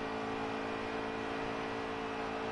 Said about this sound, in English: Jay Wood definitely saving now. I can hear it in the engine